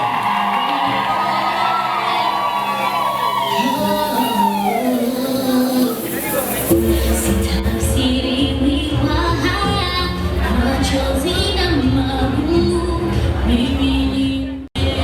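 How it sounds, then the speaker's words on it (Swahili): Women at a wedding ululate in high, wavering trills and cheer loudly together, a dense crowd sound with shouts layered over one another. "Wakina mama, shangwe na vigelegele haijatosha na mbele."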